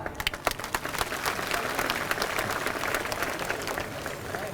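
A crowd at a political rally applauds, starting with a few sharp claps that quickly swell into dense, steady clapping that holds to the end.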